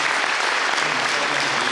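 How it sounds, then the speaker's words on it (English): Audience applause for speakers Dr. Jeff Lewis and Elizabeth May after a climate change science talk, a loud, dense and unbroken roar of clapping from a large crowd. "I just want to have one more round of applause for Dr."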